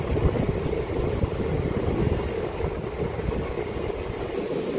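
A passenger train sits at a platform of Bolarum railway station, giving a steady low rumble and mechanical hum that stays constant throughout with no voices.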